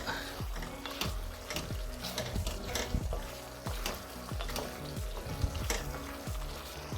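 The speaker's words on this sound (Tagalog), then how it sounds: "Pakuloy natin bahagya para maluto ang ating gata." Coconut milk simmers for pork binagoongan, bubbling and sizzling with repeated stirring clatters and scrapes, steady and close throughout.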